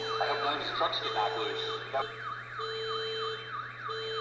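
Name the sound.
toy train car alarm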